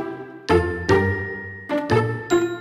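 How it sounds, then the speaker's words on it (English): A phone ringing in bursts of bright, chiming tones, five short rings in quick uneven succession, each ringing out and fading, loud and close. "Your phone rings."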